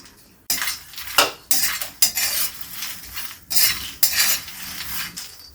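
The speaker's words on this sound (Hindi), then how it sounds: "इसी कढ़ाई में हम मखाने को डाल के भून लेते हैं।" Fox nuts (makhana) are dry-roasted without oil in a kadhai, stirred with a metal spoon in repeated scraping, rattling bursts separated by short pauses.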